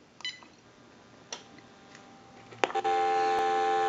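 A GE cordless telephone on a phone analyzer gives a few faint clicks and beeps, then a steady, moderately loud dial tone starts and holds to the end.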